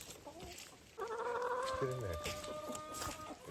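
Chickens clucking on an off-grid farm in the Canadian wilderness, close and fairly loud, with a few sustained calls and clucks over outdoor ambience while a person speaks briefly.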